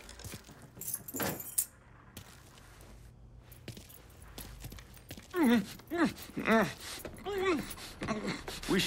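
Car keys jangle in the video game Mafia III. There is a short metallic rattle early on, then footsteps and voices talking over it.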